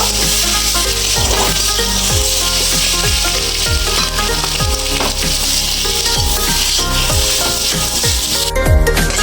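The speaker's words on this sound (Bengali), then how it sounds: "আলুগুলো দিয়ে দিলাম, সেদ্ধ করা আলু" Boiled potatoes stirred into sautéed spices sizzling in a frying pan, with a continuous loud sizzle broken by repeated scraping and rubbing strokes of a spoon against the pan.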